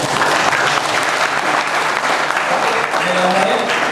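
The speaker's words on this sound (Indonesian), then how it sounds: "Tepuk tangan untuk kita semua." A crowd at a 2013 Catholic youth gathering in Serui, Papua, gives loud, continuous applause, a dense, even wash of clapping that holds at full strength for about four seconds.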